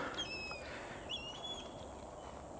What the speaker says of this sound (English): with the sound of the birds in the background